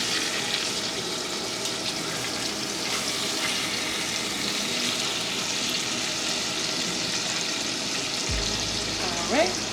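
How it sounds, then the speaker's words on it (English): Pork steaks browning in a pot, with a steady, dense frying sizzle running close and continuous, and a short low thump near the end. "we are going to finish browning all of the meat"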